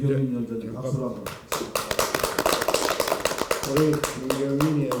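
At a party leadership meeting, a room breaks into brisk, crowded applause for a newly appointed committee chairman, lasting a few seconds between stretches of someone speaking before and after.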